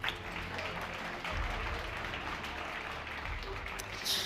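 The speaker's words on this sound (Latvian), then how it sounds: "Un vēlreiz aplausi." Steady applause from an audience at an award ceremony for housing projects, a continuous dense patter of clapping that swells slightly midway and holds at an even level throughout.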